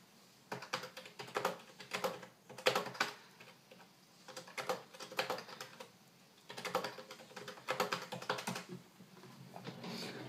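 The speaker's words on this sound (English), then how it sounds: "that was my ergonomic keyboard and how it sounds." Typing on a Microsoft Natural Ergonomic keyboard: bursts of fast, clattery keystrokes in uneven groups with short pauses between, close-miked and heard alone without speech.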